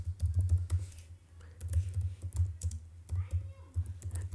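Steady typing on a computer keyboard while entering values into an Excel drop-down list, crisp close key taps in uneven bursts with a low background hum.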